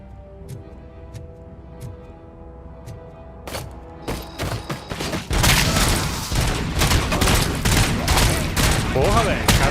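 Gunfire in the video game Robocop: Rogue City: a few sparse shots at first, then a dense, loud barrage of rapid shots over tonal game music, with someone talking underneath.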